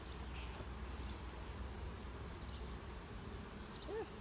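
Honeybees buzzing steadily throughout a mid-summer hive inspection, a soft continuous drone close by with no talking.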